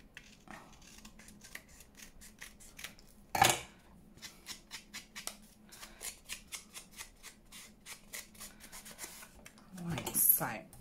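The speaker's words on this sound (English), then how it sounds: "Let me just cut around here." Scissors snip through paper and card while trimming a junk journal embellishment, a run of quiet, close, rhythmic cuts with a louder rustle near the start and end; no talking.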